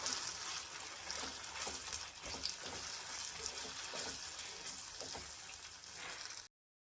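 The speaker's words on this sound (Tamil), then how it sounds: "இப்போ நம்ம அரைச்சி வச்சுருந்த மசாலாவை இதில் சேர்த்துக்கணும். நல்லா கிண்டி விட்டுக்கணும்." Ground masala stirred into frying onions in a pan, a soft steady sizzle with intermittent scraping strokes of the spoon close by, cutting off abruptly at the end.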